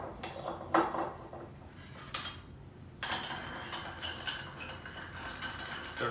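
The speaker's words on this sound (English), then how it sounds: "And then we stir." A gin cocktail stirred over ice with a metal spoon, close clinks and rattling of ice against the glass in scattered bursts, then a steadier swirling clatter, no talk.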